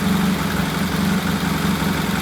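A vintage British motorcycle engine, just kick-started, idles steadily with a low, even, throbbing putter, loud and close, with no talking.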